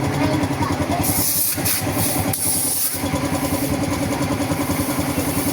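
A motorcycle engine idles steadily and loudly throughout, a continuous low rumble with a faint hiss on top and no clear speech.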